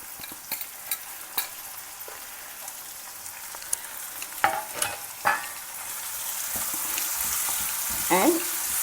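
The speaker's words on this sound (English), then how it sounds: "Allow the onions to fry well" Onions and chopped tomato fry and sizzle in a pan at home for a vegetarian lunch, a steady crackling hiss with occasional louder pops and stirring scrapes, building slightly toward the end.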